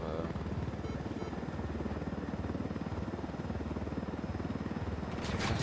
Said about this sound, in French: Ouh là là, encore un hélicoptère.